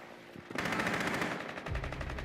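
Rainbow Six Siege gunfire: a sharp rapid burst of automatic shots starts after a quiet moment and keeps rattling loudly to the end.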